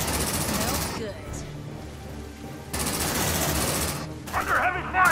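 Automatic weapon fire in the video game Aliens: Dark Descent, with dense bursts near and loud that pause briefly and then resume, mixed with shouted voices.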